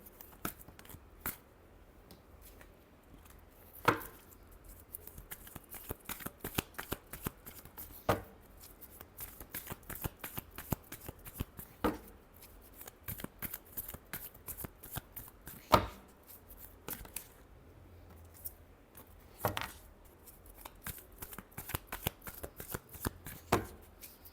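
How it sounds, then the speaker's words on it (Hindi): A deck of tarot cards is shuffled steadily and close up, with dense, repeated crisp slaps and riffles running throughout at a modest level. "Last shuffle."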